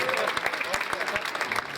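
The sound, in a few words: audience clapping at prize ceremony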